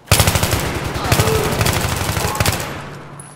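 Rapid automatic gunfire in a Battlefield 3 firefight, a dense rattling burst of shots for most of three seconds with a few sharper cracks mixed in, loud and close, tapering off at the end.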